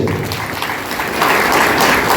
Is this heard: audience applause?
yes